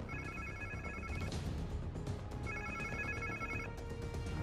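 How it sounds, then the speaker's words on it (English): A phone rings in Spider-Man 2, two bursts of a trilling electronic ring tone repeating clearly over steady game ambience and background score, with no speech over it. "Sounds like somebody's phone."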